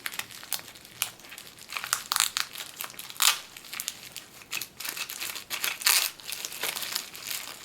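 Packing tape handled while a parcel is unboxed, producing close, continuous crinkling and crumpling with sharper tearing bursts, steady and fairly quiet.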